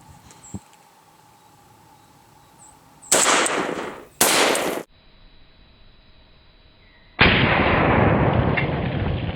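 Test shots of 7.62x39 Red Army full metal jacket rounds fired at a Level II body armor vest, several loud, close blasts with noisy tails, separated by pauses, the last one sustained and rough.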